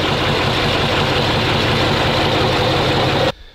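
A ZIL truck's heavy engine runs loud and close with a steady low throbbing idle, then cuts off abruptly near the end, leaving near silence.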